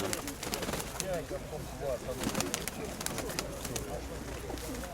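Several pigeons coo nearby in low, rolling, repeated calls, over a busy outdoor market background with scattered clicks and flutters.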